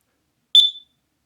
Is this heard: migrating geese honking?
no